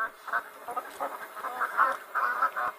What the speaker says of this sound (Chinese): 鸭子是一种离不开水的家禽，它们喜欢在水中觅食、嬉戏、求偶。